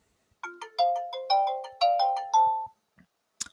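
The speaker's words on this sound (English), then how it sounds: "And already we're getting a phone call." A phone ringtone signals an incoming call: a short rising melodic sequence of bright electronic notes plays clearly in a quiet room, followed by a few faint clicks and a brief noise at the end.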